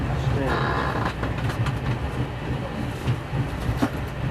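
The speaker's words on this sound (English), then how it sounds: "On the train that goes straight to London." Steady rumble and rattle inside a moving passenger train bound for London, with clicking over the rails and muffled voices of people talking in the carriage.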